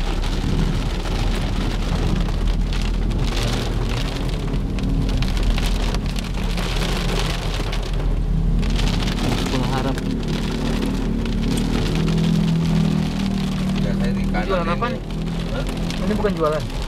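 Heavy rain pours down steadily throughout while travelling to a Carrefour store, a constant dense hiss and patter, with people talking over it.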